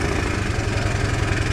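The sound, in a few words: motorcycle engine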